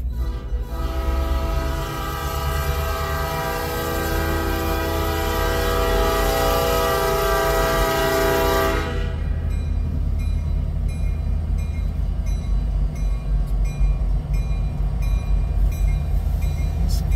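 A CN freight train, led by locomotive 5477 with more units in tow, passes at Ladysmith. A loud, steady multi-tone horn blares for about nine seconds, then the heavy rumble and rattle of rolling cars continues alone.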